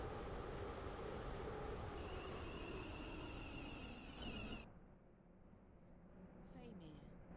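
A Class 350 train in the Roblox game Stepford County Railway plays continuous rumbling running noise with a steady wheel roar that drops partway through. A synthetic announcer voice talks over it, and a few brief electronic tones follow.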